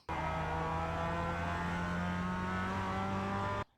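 A Mazda MX5 engine in the iRacing sim racing game, droning loud and steady under hard acceleration with a sustained rising tone, cutting off abruptly near the end.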